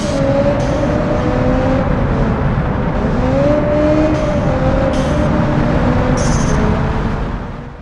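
Racing car engine roaring steadily through a drag race in BeamNG.drive, a continuous loud drone with rising and falling pitch, brief higher whines layered on top, fading slightly at the end.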